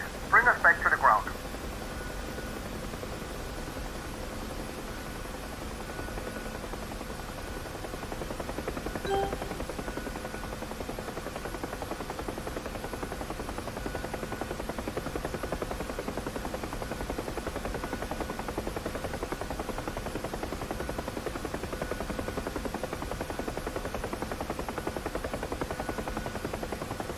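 An UH-1 Huey helicopter in DCS descends to land, a steady droning rotor and turbine hum that grows slightly louder partway through, with a short electronic tone at the start and radio-style voices over it.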